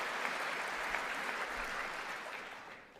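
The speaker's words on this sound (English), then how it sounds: "Please clap." Audience applause in a large chamber during a State of the Union address, a dense, continuous clapping from many people that holds steady and then tapers off toward the end.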